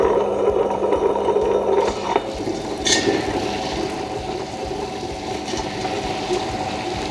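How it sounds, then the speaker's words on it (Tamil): A wet grinder churning soaked ragi into idli batter gives a steady whirring hum with sloshing, watery texture. It runs loud and continuous throughout, with a brief clink partway through. "இப்போ நம்ம இது எல்லாத்தையுமா சேர்த்து வந்து இப்போ கிரைண்டரில் அரைக்க போகிறோம்."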